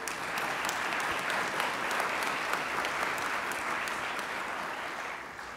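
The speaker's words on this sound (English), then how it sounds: "Give them a round of applause." A conference audience at AppSec Global DC 2019 applauds the local volunteer team, a broad, even wash of clapping that holds steady, then eases slightly toward the end.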